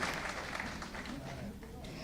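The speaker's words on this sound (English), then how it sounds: "Once again, a good round of applause." An audience at a book release function at the Governor's residence claps in sustained, moderately loud applause, mixed with a voice speaking.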